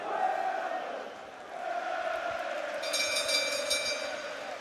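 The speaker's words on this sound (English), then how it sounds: "all around the Manchester arena, people are standing up and cheering" A boxing crowd at the Manchester Arena roars and cheers on its feet after a twelve-round world title fight, a broad, sustained wash of noise with a brief high whistle-like tone cutting through partway.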